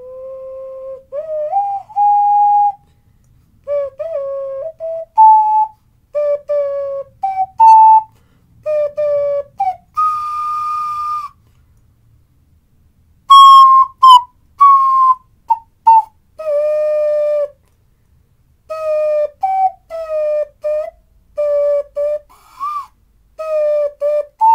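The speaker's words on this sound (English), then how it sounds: "that's my fucking attempt at playing taps on Ocarina of Time" A handheld ocarina plays the bugle call Taps, as heard in the Zelda Ocarina of Time game, with clear breathy sustained notes in phrases separated by short pauses, loud and close.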